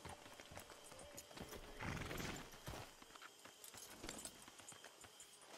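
Horse hooves clip-clop in a steady walking rhythm in the video game Red Dead Online, with a breathy whinny partway through, heard fairly close amid faint background ambience.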